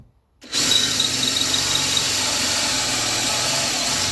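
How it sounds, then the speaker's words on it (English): Power drill boring through the wooden joints of a replica K6 telephone box, starting abruptly after a brief silence and then whining steadily and loudly at close range. "and then we can drill through."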